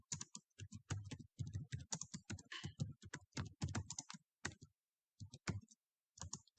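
Rapid keystrokes on a computer keyboard entering a data query, a close, crisp burst of clicking with brief pauses between runs of keys.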